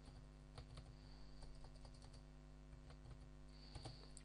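Keys clack on a computer keyboard as a command is typed at a command prompt, a quick irregular run of light clicks over a steady low electrical hum, faint and close.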